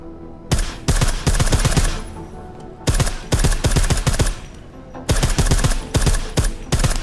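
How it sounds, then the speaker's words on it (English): Suppressed gunfire from the video game Deus Ex: Mankind Divided, heard as three loud bursts of rapid, evenly spaced shots separated by short pauses, with no talk over it. "I like how silencers reduce sound, but the trade-off is less stopping power, less damage per hit."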